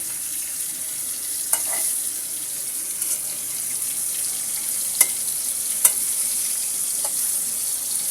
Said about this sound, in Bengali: মাছগুলোকে আমি এপিট ওপিট করে সুন্দর করে ভেজে নিচ্ছি